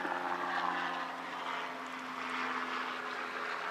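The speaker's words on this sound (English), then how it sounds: "As you can hear, I live right next to a helicopter field" A helicopter flies nearby beside a helicopter field, its steady rotor drone and engine hum sustained and moderately loud throughout, with no talk.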